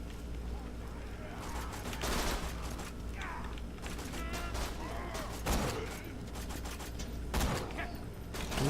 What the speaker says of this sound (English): shooting the witch doctor's head